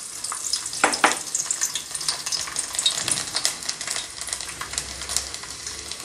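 Chopped garlic frying in a pan as the first step of a chicken dish, a steady crackling sizzle with occasional louder spits and stirring scrapes.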